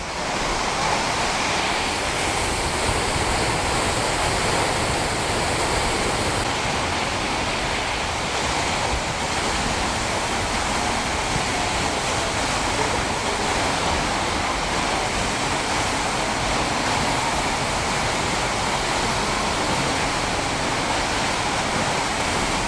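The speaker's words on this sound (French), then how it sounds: "on est derrière la cascade" A waterfall in Iceland, heard from behind the falling water, roars as a loud, constant wash of broadband noise that fills the whole stretch without a break.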